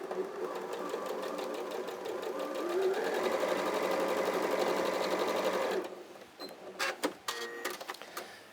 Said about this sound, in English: you go along this edge and sew that 1/4 inch